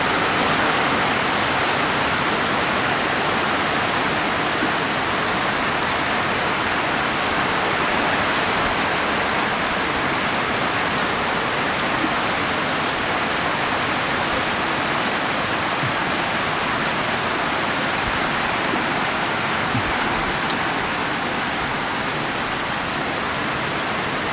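Heavy rain falls during a tropical storm over flooded rice paddies and brimming ponds, a steady, loud, unbroken hiss that carries on evenly without any voices.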